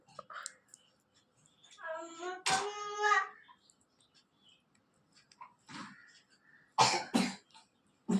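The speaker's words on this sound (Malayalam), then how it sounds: "ചുമയുണ്ടടാ" Several short, dry coughs from a person close by, with a throat clearing, brief quiet gaps and faint clicks between them.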